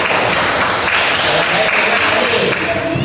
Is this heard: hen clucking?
no